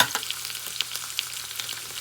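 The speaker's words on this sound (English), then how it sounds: "So I'm just going to fry this up right here" Salmon frying in a pan, a constant close sizzle and crackle dotted with small popping spatters at an irregular pace, moderately quiet, no talk.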